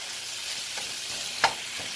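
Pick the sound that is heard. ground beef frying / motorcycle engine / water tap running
ground beef frying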